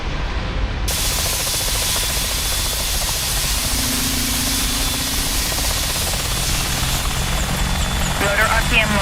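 AH-64 Apache helicopter engines spooling up in the DCS flight simulator, a loud continuous turbine whine and rotor drone that stays steady and close, with a brief tonal rise in the middle.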